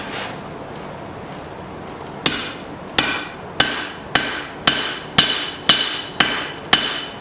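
Hammer blows ring out on a Bowie knife ricasso at the forge: nine sharp, evenly spaced metallic strikes, close and loud, following a quiet stretch.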